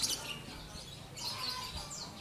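A lovebird chirps outdoors near its cage at its owner's house, faint thin high calls repeating softly over quiet background noise.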